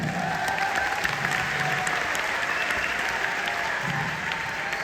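Steady, even applause from a seated audience at a training session, a continuous crowd of clapping hands at moderate distance throughout.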